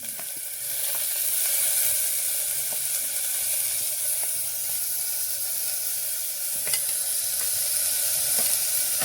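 Onions sizzle and fry in hot oil with crackling mustard seeds, a steady loud hiss with occasional pops and stirring, close up and without talk.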